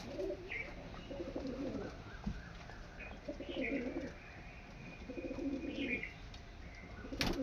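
Domestic pigeons kept by a fancier coo softly in repeated low, rolling phrases, several calls spread across a quiet stretch.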